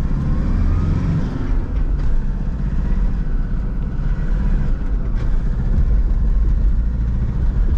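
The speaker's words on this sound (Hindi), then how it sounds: "थोड़ा सा नॉइजी ज़रूर है इसका इंजन" A Toyota Fortuner Type 2 engine runs steadily at close range, a continuous low rumble with a faint higher whine that holds for the whole stretch with no talking over it.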